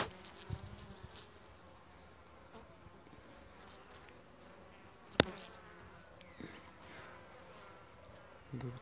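Honeybees buzz around an opened hive frame during a weak-colony inspection, a steady low hum of insect wings with a sharp click midway, quiet and close, with no talk over it.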